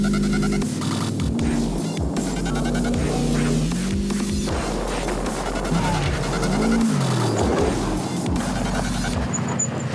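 Off-road car driving a hot lap, with a heavy, throbbing engine drone and rising and falling gear-change tones close by inside the cabin, rough bumps and rattles throughout.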